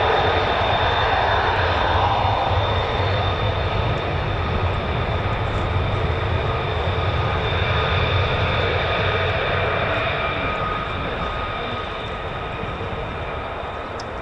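An F-35 fighter jet engine roars at RAF Lakenheath, a loud, steady rushing jet noise that holds for several seconds and then slowly fades as the aircraft moves off.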